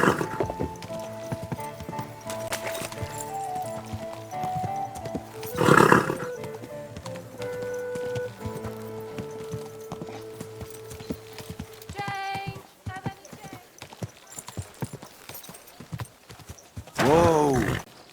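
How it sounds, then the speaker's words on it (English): In Kingdom Come: Deliverance 2, a horse's hooves clop steadily at a walk, with two loud snorting, whinnying bursts, one midway and one at the end, plus faint rattling tack and light background music. "Easy, good horse."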